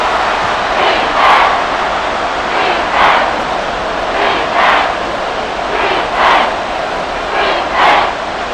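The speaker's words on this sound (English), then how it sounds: "The crowd getting into it as we come up on a big 3rd down." Stadium crowd in the video game Madden NFL 24, a steady broad roar of cheering from a large crowd, swelling in repeated surges throughout, with no speech over it.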